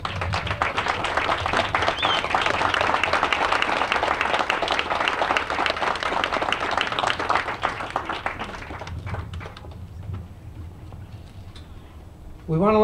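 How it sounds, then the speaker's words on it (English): A graduation ceremony audience stands and gives a sustained round of loud, dense applause that lasts about nine seconds, then thins out and fades. Some voices can be heard underneath. "Please stand, all of you, for a great round of applause."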